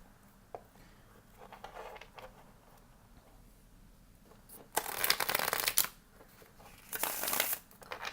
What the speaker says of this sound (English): Now I'm just going to do a little shuffling.